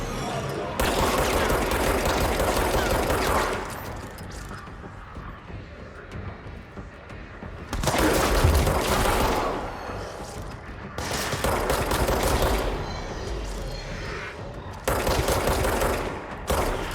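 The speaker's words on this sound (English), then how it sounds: "I'm missing all my shots here, man." Bursts of gunfire from the video game Control, several loud sustained volleys of rapid shots separated by quieter stretches, close and dominant with no talk over them.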